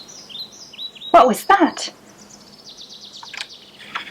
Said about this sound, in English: Then there was a sudden fluttering and chirping.